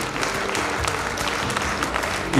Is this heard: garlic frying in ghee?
no